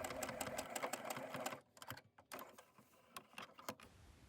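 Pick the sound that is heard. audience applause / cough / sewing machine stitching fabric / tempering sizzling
sewing machine stitching fabric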